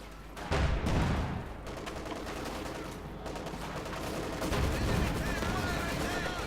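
Dense tank battle gunfire from the video game Company of Heroes 2: cannon blasts and rattling machine guns overlap continuously in a loud, busy wash of combat noise, with no pause.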